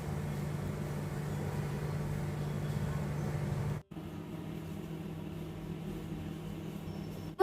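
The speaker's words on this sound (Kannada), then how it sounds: "ಇದನ್ನ ಇನ್ನೊಂದ್ಸತಿ ತಿರುಗಿಸಿ ನಾವು ಇನ್ನೊಂದ್ ಸ್ವಲ್ಪ 2-3 ನಿಮಿಷ ಏರ್ ಫ್ರೈ ಮಾಡಿದ್ರ ಇವು ಮಸ್ತ್ ಕಟ್ಲೆಟ್" Steady electric hum of an air fryer cooking beetroot cutlets, a constant low drone that drops out briefly midway and then resumes, with a faint beep or clatter at the very end.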